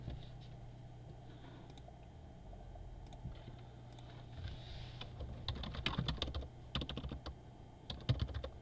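Computer keyboard typing, close and fairly quiet, starting in sparse taps and building into rapid, irregular clusters of keystrokes over a low steady background hum.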